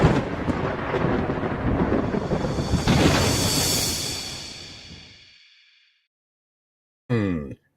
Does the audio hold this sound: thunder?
yes